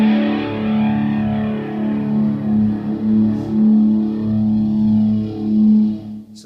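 An electric guitar run through distortion and a modulation effect plays sustained, swirling chords with a slowly sweeping, phasing texture, loud and continuous throughout.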